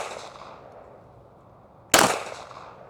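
A single pistol shot from a custom 2011 handgun cracks loud and sharp near the two-second mark, following a quieter stretch of fading room noise, then rings out and decays.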